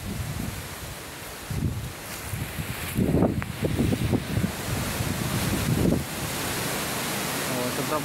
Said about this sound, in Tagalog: sobra pong lakas ang hangin.